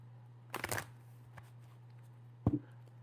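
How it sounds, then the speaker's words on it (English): Tarot cards being shuffled by hand, two short riffling bursts about two seconds apart, close and fairly quiet over a steady low hum. "Let me shuffle it one time though."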